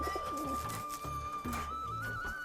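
Pigeons coo at a rural Bangladeshi pigeon farm, a male in the loft with a hen nearby. Low, rolling coos repeat steadily through the clip at moderate distance over a faint steady background tone, with no talking.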